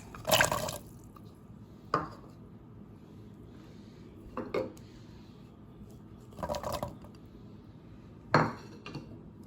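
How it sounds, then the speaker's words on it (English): Carrots dropped into a pot of vegan soup joumou, a few separate clattering knocks and thuds spaced a couple of seconds apart, close by with quiet gaps between them and no talk. "I'll go ahead and add the carrots."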